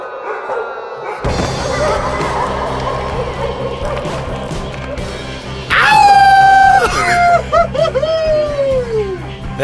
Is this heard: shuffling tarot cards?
no